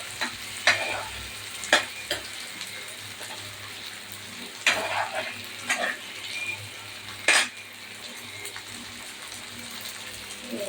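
Onion, tomato and green chillies sizzle in a pan for sambar while a spoon scrapes and stirs them, a steady frying hiss broken by several louder clanking strokes against the metal.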